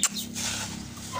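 Hens in a small flock cluck briefly while grain is scattered for them, a short burst of close clucking over soft background noise.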